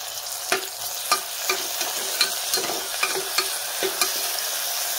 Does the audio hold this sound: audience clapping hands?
no